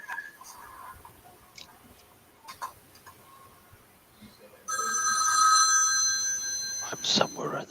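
A rotary telephone rings in the film Maniac Cop. The loud, bright bell starts partway through and keeps ringing after a stretch of quiet, scattered background sounds.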